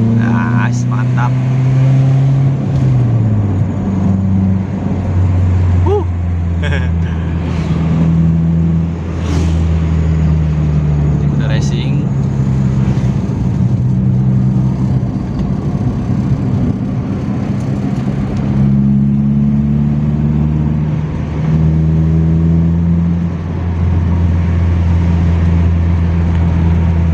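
Car exhaust with a homemade valvetronic valve in racing mode, loud and close, its deep engine tone rising and falling through several revs over a steady rumbling drone.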